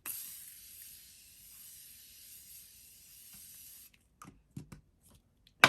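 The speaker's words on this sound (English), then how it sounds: "do a generous amount of setting spray" Makeup setting spray hisses onto a face in one long continuous mist lasting almost four seconds, close and steady, then stops, followed by a few faint taps and rustles.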